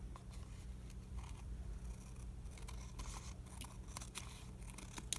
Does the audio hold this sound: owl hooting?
no